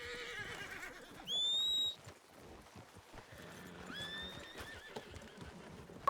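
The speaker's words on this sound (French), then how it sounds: "Il y a un cheval attaché." A horse tied up in a video game whinnies once in a high, wavering neigh, followed later by a softer second whinny over a busy background of clopping and ambient noise.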